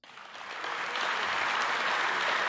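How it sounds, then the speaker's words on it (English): Applause swells up quickly from a comedy show audience and holds steady, a thick continuous patter of many hands clapping. "What the fuck you guys clapping about?"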